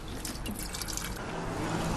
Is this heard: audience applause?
no